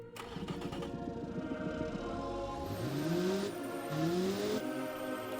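Small economy car engine in Automation and BeamNG, revving close up, climbing twice in pitch with a whirring, slightly clattery tone, and no talk.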